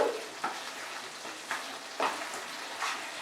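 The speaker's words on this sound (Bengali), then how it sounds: "এবারে আমি এটাকে নেড়ে দিচ্ছি।" Bengali mutton curry with potatoes is stirred as it fries in a pan. Spaced scraping strokes of the spoon rise over a soft, continuous sizzle, and no one speaks.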